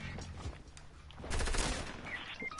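SMG gunfire in a first-person shooter game during a rooftop and street fight, heard as a dense burst of rapid shots mid-clip over a steady busy background.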